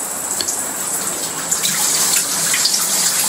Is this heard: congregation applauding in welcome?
no